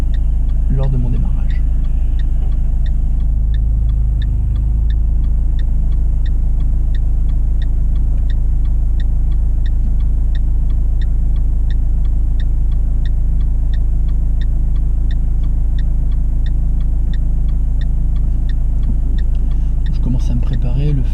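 A car pulls away from a traffic light on a slight uphill slope, with a loud, steady low engine rumble and faint ticking heard throughout.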